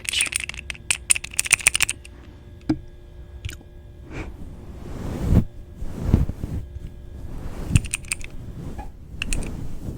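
A single keyboard switch is clicked over and over up close, sharp dry taps in irregular bursts with quiet gaps between them.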